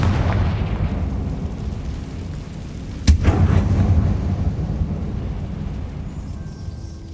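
A Confringo blasting spell goes off in Hogwarts Legacy: one sharp, loud explosive crack about midway, followed by a rumbling boom that slowly fades under a steady low background drone.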